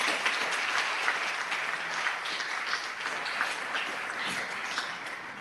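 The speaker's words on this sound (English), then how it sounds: "let's give a big round of applause to our panelists for being here." A big round of applause for panelists at a community conversation on suicide: a continuous, fairly loud crowd clapping that holds steady and tapers slightly at the end.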